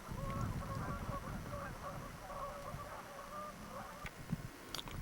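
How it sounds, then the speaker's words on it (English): Geese honk intermittently at a distance over a steady low rumble of the Green River near Dinosaur National Monument and outdoor background noise. "You can hear birds on the Green River behind me."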